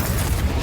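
A Confringo spell explodes in the Hogwarts Legacy video game as a single loud, deep boom that fills the whole short moment with rumbling low end.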